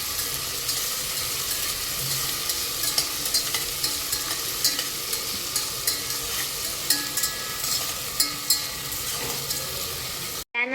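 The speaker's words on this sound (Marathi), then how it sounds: "त्याच्यानंतर ॲड करायचं आहे टमाटर, त्याच्यानंतर बटाटे ॲड करायचे, ते मिक्स करून घ्यायचे आपल्याला।" Tomatoes and potatoes stirred in a frying pan for soybean biryani, with a steady sizzle under repeated scraping and clinking spoon strokes throughout, no voices.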